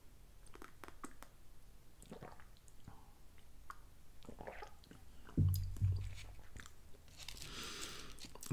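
Close, crisp crunching and chewing of Whole Grain Wheat Thins crackers, with a series of bites and mouth sounds, a louder crunch partway through, and no talking.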